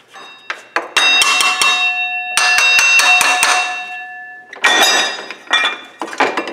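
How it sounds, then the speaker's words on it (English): Loud metallic clanks from a hammer striking a Jeep Cherokee water pump pulley, quick repeated blows with ringing tones, in bursts separated by short pauses. "You might have to take like a hammer or something just to knock it free"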